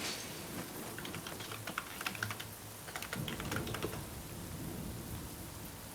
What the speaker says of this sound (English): That's the sound of typing.